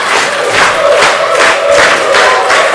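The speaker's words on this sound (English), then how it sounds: "You can hear those barks of the UWA Elite Army." A wrestling show crowd in South River chants in rhythmic barks, loud and continuous, with repeated pulsing shouts for an Elite Army faction at an indie wrestling event.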